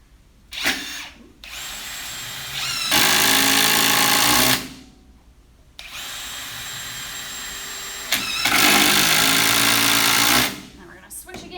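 A Ryobi power drill driving screws into a wooden DIY cornhole board, two long loud whirring bursts, each climbing as the screw seats and then cutting off, with short clicks and quiet gaps between and voices talking alongside.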